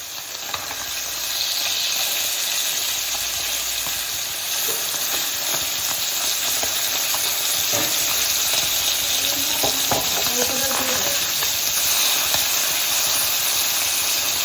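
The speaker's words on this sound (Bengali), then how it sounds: "এরকম করে সব মাছগুলো ভেজে নেবো" Small egg-laden puti fish fry in oil, a loud, dense, unbroken sizzle close at hand throughout, with faint stirring and spitting touches.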